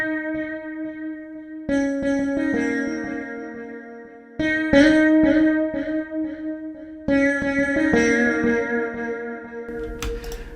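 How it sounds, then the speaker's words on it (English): An Omnisphere sitar patch plays twangy plucked phrases with ping pong delay and reverb, its notes ringing and echoing in bursts with decaying tails, soloed and without talk. "found this sitar patch here, and I kind of wanted like a little ping pong type of a delay going on"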